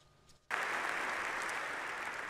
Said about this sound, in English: Pritzker got huge applause when he promised to pass a balanced budget and to do it on time